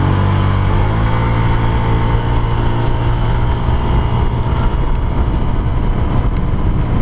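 A Honda Click125i scooter engine revving hard, its tone climbing steadily in pitch as the RPM rises, loud and close throughout with a buzzing, harmonic whine.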